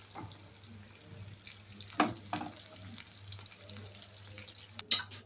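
Onions browning in a pan for chicken fajita, a faint continuous sizzle beneath a low hum, broken by a few brief clatters of utensils against the pan.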